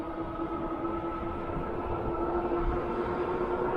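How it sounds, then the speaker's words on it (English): Rad Expand 5 electric bike motor under throttle produces a steady, fairly faint whine with a constant tone over a continuous rolling rumble of wind and road noise. "giving it some more juice, just throttling here"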